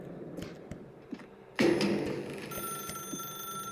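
A telephone in The Stanley Parable: Ultra Deluxe starts ringing after a few soft clicks, a sudden electronic ring that sustains as a bright steady tone until the end.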